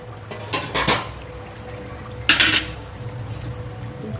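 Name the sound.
lifting the lid off the chicken biryani pot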